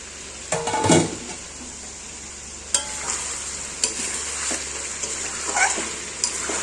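Chicken with ginger and garlic sautés in a pan under a low steady sizzle, broken by several sharp stirring scrapes and clanks of a spoon against the pan.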